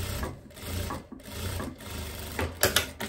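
Sewing machine stitching the facing of wide leg pants, running in short bursts of rapid mechanical chatter with brief pauses between, fairly quiet and close.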